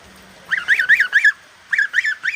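Large geese soaked by heavy rain honk close by in two quick runs of rhythmic nasal calls, about eight honks in all, with a short pause between runs.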